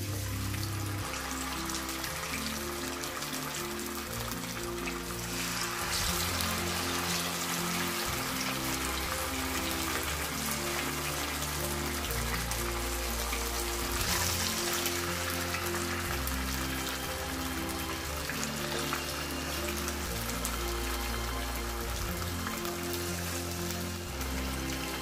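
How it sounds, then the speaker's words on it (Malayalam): Chicken pieces frying for biryani in oil already used to fry cashews and raisins, a steady dense sizzle that continues evenly throughout, with music playing underneath. "ഇനി നമുക്ക് ഇതേ എണ്ണയിൽ തന്നെ ചിക്കനും കൂടി ഒന്ന് ഫ്രൈ ചെയ്തെടുക്കാം."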